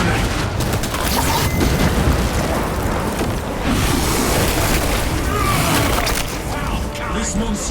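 A crack grenade in Warhammer 40k Space Marine 2 goes off in a loud, sustained roar of explosive rumble that blends into heavy combat noise, with speech mixed over it.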